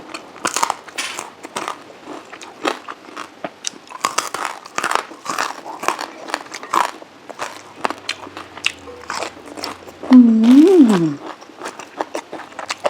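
Crunchy bites into fried Thai pork rinds (khaep mu), a close series of sharp crackling crunches running through the clip, with a brief tonal vocal sound near the end.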